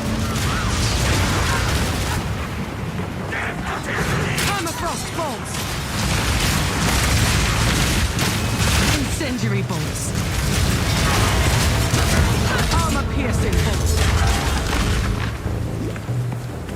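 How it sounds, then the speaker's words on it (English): In Path of Exile 2, incendiary and permafrost crossbow bolts fire and burst in rapid succession, giving dense, continuous booms, mechanical clicks and crackling impacts with no pause. "Incendiary bolts. Permafrost bolts. Incendiary bolts."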